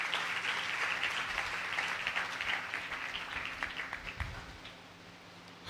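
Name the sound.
audience applause for the army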